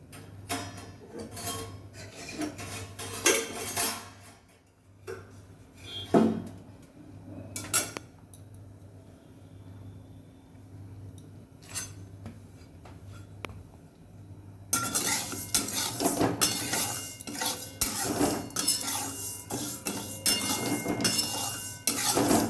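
Dal dry-roasting in a pan, stirred with a metal utensil. Repeated clinks and scrapes come in bursts, with quieter gaps, and turn into louder, busier clattering toward the end.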